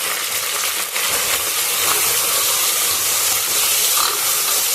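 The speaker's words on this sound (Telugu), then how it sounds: "కొత్తిమీర, పుదీనా వేసుకొని ఇలా బాగా ఒకసారి కలుపుకొని" Coriander and mint are stirred into frying masala for chicken biryani made in a pressure cooker, a loud, steady, close hiss of sizzling oil and steam throughout, with occasional faint stirring scrapes and clinks.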